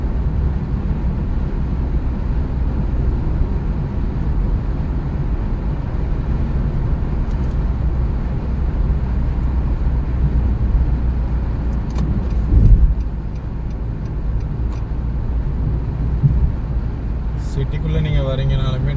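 Steady city road traffic with cars driving toward the city centre, a continuous low engine and tyre rumble throughout, a brief louder vehicle passing near the middle and faint wind noise.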